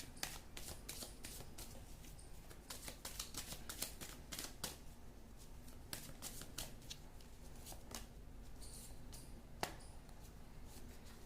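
Tarot cards are shuffled for a reading in a quick, crisp run of riffling slaps and flutters, with short pauses between bursts, close and fairly quiet.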